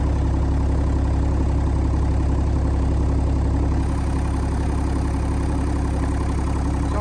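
A Hitachi 30U mini excavator's engine runs at a steady idle, a loud, continuous low rumble with an even throb that holds unchanged throughout, with no voices.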